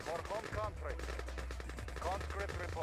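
Conscript infantry in Red Alert 2 fire rapid rifle volleys through a narrow gap, a steady rattle of overlapping shots under a low rumble, moderately faint, with someone talking over it.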